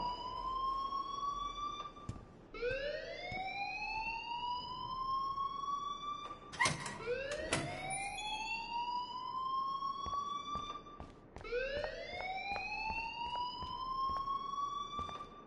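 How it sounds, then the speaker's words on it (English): An electronic alarm in the video game Life is Strange wails in repeated rising sweeps, steady and prominent, with a few sharp clicks and thumps between cycles. "please turn off that alarm since that's your job"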